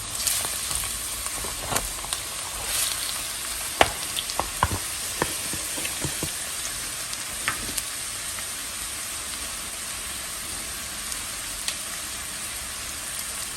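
Half a kilo of ground beef frying with chopped onion in a hot pan, a steady close sizzle with occasional sharp pops and stirring scrapes, no talking.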